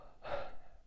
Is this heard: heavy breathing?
yes